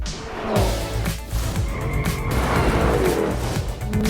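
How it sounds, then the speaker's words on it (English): Dodge Durango Hellcat, Lamborghini Urus and Jeep Trackhawk SUVs launching in a drag race, loud engine roar building and shifting, with tire noise and a strong surge after a short quiet start, heard close and continuous. "And this is a drag race."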